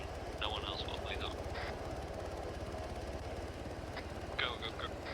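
A helicopter engine in the video game Arma 3 drones steadily with a rapid rotor chop throughout, while players talk over radio chatter and brief beeps sound.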